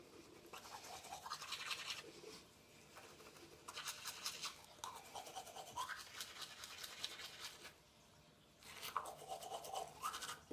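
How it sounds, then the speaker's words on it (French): Teeth brushed with a manual toothbrush, quiet close scrubbing strokes in rhythmic bursts of a second or two, separated by short pauses. "je vais juste vous faire voir la tête que j'ai en brossant les dents"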